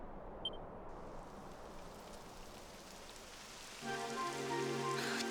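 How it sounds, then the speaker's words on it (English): Steady rain hiss falls across a scene in the video game Dragon Quest XI, a continuous broadband patter with a faint beep early on and a tonal musical layer joining near the end. "It would have to go and start raining, wouldn't it?"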